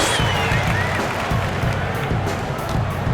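A dense arena crowd roars and cheers in an NBA 2K21 basketball game between the Boston Celtics and Milwaukee Bucks, a steady loud wash of voices and applause lasting throughout.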